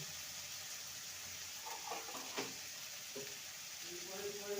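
Cauliflower and egg masala sautéing in a pan, a faint steady sizzle with a few soft stirring clinks and scrapes, quiet and continuous.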